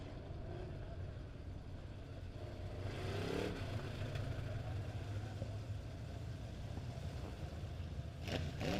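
Midwest Modified dirt race cars roll out for a B Group heat race at Springfield Raceway, engines rumbling and idling at moderate distance with a rising surge of revs midway, under crowd and announcer chatter.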